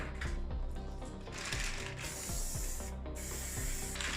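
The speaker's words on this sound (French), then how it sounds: "Ces moules en silicone seront légèrement graissés avec de la bombe à graisse" Grease is sprayed from an aerosol can into silicone muffin moulds, heard as close, bursty hissing sprays over a steady mechanical hum with faint clicks, and no one speaks.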